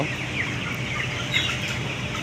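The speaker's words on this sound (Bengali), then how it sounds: "ওখানে একটা মুরগি দেখা যাচ্ছে" A 20-day-old chicken on a poultry farm clucks quietly and intermittently against a steady outdoor background hiss.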